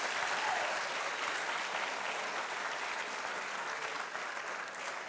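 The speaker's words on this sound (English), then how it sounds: "Oh, please clap for them." Audience applause at a conference fills the whole stretch as a dense, steady wash of clapping from a crowd. It holds at an even level and fades slightly near the end.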